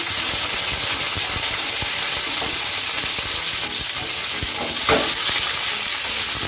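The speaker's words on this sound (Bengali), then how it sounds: "এক মিনিটের মতো ভেজে নিচ্ছি।" Chopped tomato, capsicum, ginger and green chilli fry in hot ghee, a dense steady sizzle with a few stirring scrapes, close and loud, with no speech.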